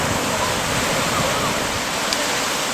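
Sea waves washing on a beach, a continuous broad roar of surf close by that holds steady throughout, with no clear voices on top.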